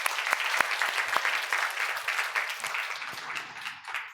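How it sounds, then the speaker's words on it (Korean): A church congregation at a Wednesday teachers' dedication service claps warmly for its Sunday school teachers, a steady round of hand claps that tapers off toward the end, with no talking over it. "그래서 우리 모든 교사분들에게 우리 감사하다고 잠깐 박수하면 좋겠습니다"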